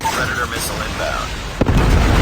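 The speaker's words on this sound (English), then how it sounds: "Predator missile inbound." A Predator missile strike in Call of Duty Mobile lands as a brief thud followed by a deep, swelling rumble. It sits among game sounds and voice chatter.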